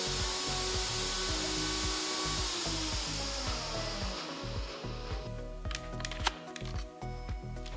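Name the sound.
mixer grinder grinding chutney until smooth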